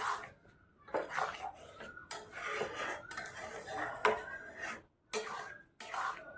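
Spoon stirring egg tadka in a metal pan: close, uneven scraping and clinking against the pan in short bursts with brief pauses, no talk.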